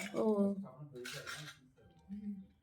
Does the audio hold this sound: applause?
no